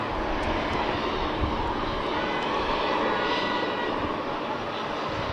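A loud, steady airplane engine roar fills the whole stretch, droning evenly without breaks.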